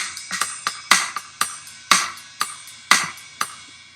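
A programmed drum groove from Logic Pro X's Drummer plays alone: crisp snare and hi-hat hits in a steady, syncopated R&B pattern with a light kick underneath.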